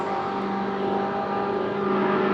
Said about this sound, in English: Stewie, Ross's car sounds a lot crisper than I've heard that car sound